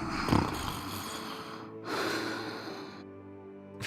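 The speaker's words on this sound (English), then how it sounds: "Listen to that snore." A sleeping character in the video game Dark Deity 2 snores, giving a couple of loud, breathy snorting inhales and exhales close up, with no talk over it.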